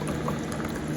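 Soft plastic fishing baits bubble in a pot of boiling liquid, giving a soft, continuous fizzing and popping that is faint and very brief.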